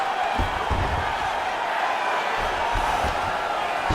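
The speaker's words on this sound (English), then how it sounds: "big pop from the crowd as they get back to their feet" A crowd roars in the UFC 5 video game during a simulated Forrest Griffin versus Shogun Rua fight as the fighters get back to their feet, a steady cheering wash with some dull thuds beneath.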